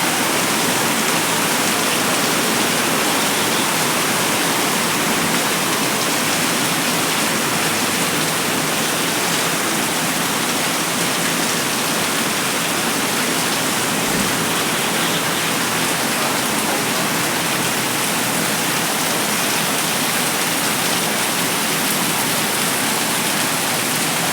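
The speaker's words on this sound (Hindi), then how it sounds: "साथ में हो रही है बहुत ही भयंकर बारिश" Very heavy rain pours down outside in a dense, unbroken roar of hissing drops, loud and even for the full stretch with no pauses.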